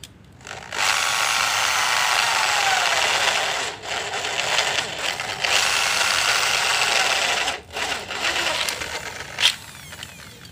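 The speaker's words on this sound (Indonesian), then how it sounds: "Saya bor untuk yang bagian bawah dulu, yang untuk lubang as." A power drill whirs loudly and steadily, pausing briefly a few times between bursts as it bores axle holes clean through the parts of an egg incubator roller rack.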